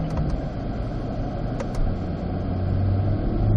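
On the Spring Mountain race track, a car engine drones with a low, steady rumble heard from inside the cabin, rising slightly toward the end as the driver short shifts up to fourth gear.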